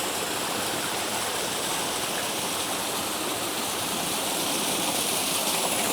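A forest creek flows steadily close by, a constant broadband rush of water near a waterfall in Allegheny National Forest, with no voices over it.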